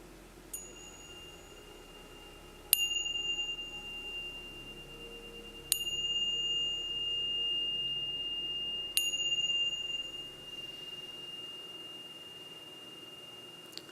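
A meditation bell closing a Sunday celebration service is struck three times at roughly three-second intervals, each strike a bright metallic ping that rings into a long, clear sustained tone and slowly fades over a quiet room.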